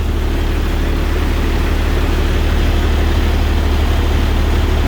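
A 1993 Blue Bird school bus engine runs with the transmission engaged, a steady loud low drone held close and even throughout with no talking.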